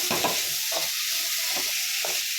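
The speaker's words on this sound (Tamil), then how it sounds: "இதை வந்து வதக்கிக்கலாம்" Vegetables for homemade wheat noodles are sautéed in a pan, with a steady sizzle under several short scraping stir strokes close by.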